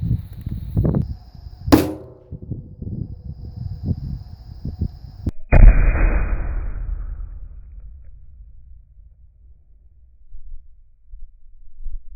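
A .277 Wolverine rifle fires an all-copper 95 grain bullet outdoors, one sharp loud shot midway followed by a long fading rumble, with softer handling noises and clicks before it.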